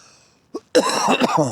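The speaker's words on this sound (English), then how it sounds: "Sorry for the cough." A single short cough right up close, then a person starts talking.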